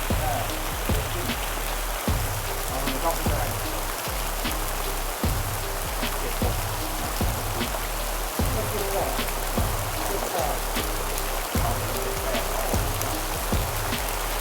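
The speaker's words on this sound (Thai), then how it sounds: "จะฝนตกหนักมากเลยท่านผู้ชม" Heavy rain pours down at an abandoned temple in Ratchaburi, a dense, constant loud hiss with scattered drips and patters, alone throughout.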